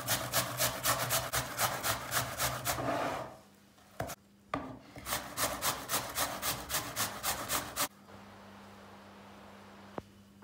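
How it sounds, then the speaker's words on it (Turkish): Potatoes rubbed across the largest holes of a box grater make rapid rhythmic rasping strokes, loud and close, in two bursts separated by a short pause, with a faint click near the end. "Rendenin en büyük gözünde rendeliyoruz."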